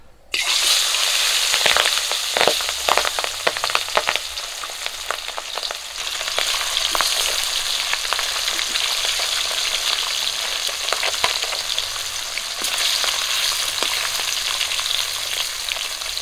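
Catfish pieces rubbed with salt and turmeric sizzle loudly in hot oil in a pan (kadai) in a rural village kitchen, with steady crackling frying and spattering pops throughout and no voices.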